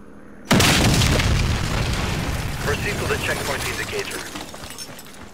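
A C4 charge detonating in the Warface shooter game, a single loud, close blast that hits abruptly and decays into a long rumbling tail with scattered debris sounds. Speech is faintly present in the background.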